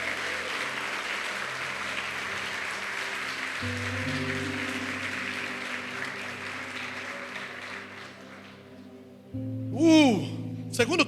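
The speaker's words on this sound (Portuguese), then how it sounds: "Aplauda Jesus Cristo." A church congregation applauds during a sermon, a broad sustained wash of clapping over held organ or keyboard chords, fading out before a brief musical swell at the end.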